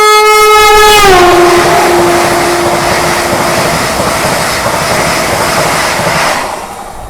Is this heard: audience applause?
no